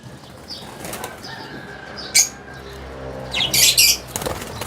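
A bird inside an enclosure gives a couple of loud, close bursts of squawking and wing-flapping against a quiet background, with no talking.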